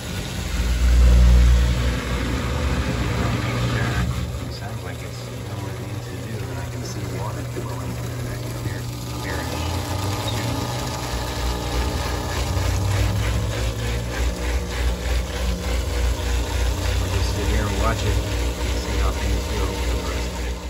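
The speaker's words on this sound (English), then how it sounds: "I'm running a rinse and spin cycle" A Maytag 3000 washing machine running its rinse and spin cycle hums with a steady motor drone and low pump whir, continuous and fairly close.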